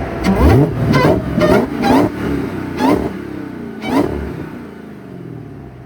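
Dodge Hellcat engine revved from the front of the car, five or six sharp blips in quick succession, loud and close, each rising and falling back to a rumbling idle.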